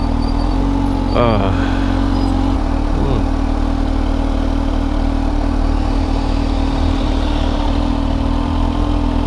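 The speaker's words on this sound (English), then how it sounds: "I'm really enjoying the ride on the ZH2 on the low power mode, just riding around in a city." Kawasaki Z H2 motorcycle ridden in low power mode through city traffic, a steady engine drone running close and loud throughout, with rising and falling engine notes early on.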